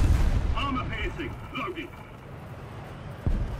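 A bomb explosion in the War Thunder game with German tanks: a heavy low boom rumbling in the background with game effects, with no speech over it.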